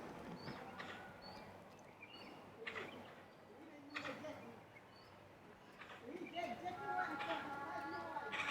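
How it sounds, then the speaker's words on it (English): Outdoor bird calls, soft cooing notes repeating at a distance, heard beneath ongoing talking and ambient noise. "I think you hear the sound of it, the sound of that bird."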